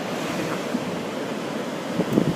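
Big ocean waves pounding the beach at Hanalei Cove, a steady broad roar of surf mixed with wind buffeting the microphone, with a few slightly louder crashes near the end and no talking.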